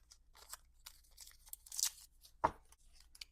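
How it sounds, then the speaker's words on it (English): Brown paper is torn by hand into scraps in short, sharp rips and crinkles, with one louder tear standing out in an otherwise quiet room. "taking the brown paper and tearing it."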